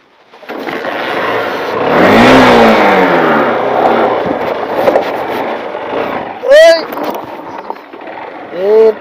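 A vehicle engine starts and revs, a rising whine and roar that holds for several seconds, with people talking loudly over it and a couple of short sharp bursts near the end.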